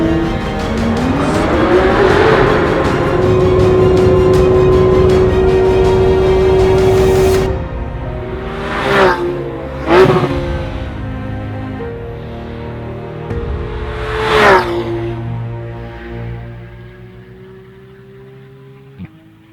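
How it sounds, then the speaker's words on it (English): A 991-generation Porsche GT3 roars as it accelerates up through the revs, loud and close, then lifts and blips through several sharp gear changes before fading out. "the ultimate fun machine for the road, the 991 generation Porsche GT3"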